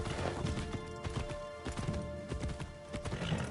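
A horse in Assassin's Creed Shadows walks with a steady, close clip-clop of hooves, mixed with faint ambient game sounds and a hint of whinnying.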